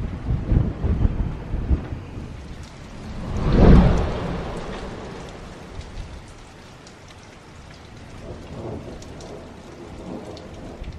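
A thunderstorm on Samos: a deep rolling thunder clap swells and fades after a few seconds, with a softer second rumble later, over steady rain falling on surfaces and some wind buffeting.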